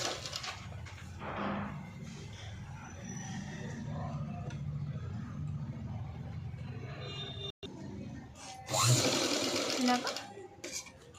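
An electric sewing machine stitches the puff sleeve of a blouse, its motor humming steadily at moderate loudness before a louder, faster run near the end, while someone talks over it.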